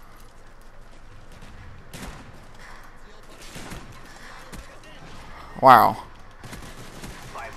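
Gunfire in Call of Duty: Black Ops multiplayer on the Summit map, with scattered shots and one sharp, loud burst near the end. A player's voice speaks briefly over the game sounds.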